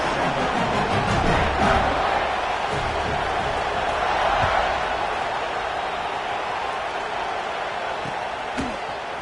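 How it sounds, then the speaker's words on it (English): A stadium crowd in an NCAA 26 football game cheers in a loud steady roar of many voices that swells early and eases slightly later, with occasional thumps mixed in. "this crowd is feeling themselves after that last drive"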